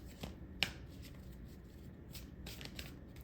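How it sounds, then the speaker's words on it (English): Soft papery riffling of tarot cards being shuffled, quiet and close, with a sharp snap near the start and faint shuffling bursts throughout. "I'm going to shuffle this deck one time"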